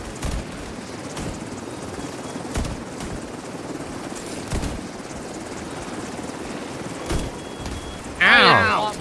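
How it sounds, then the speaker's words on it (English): A helicopter flies in Tom Clancy's The Division 2, a steady rotor chop running under periodic thumps and sharp hits, with a voice breaking in loudly near the end. "I hear another chopper coming in."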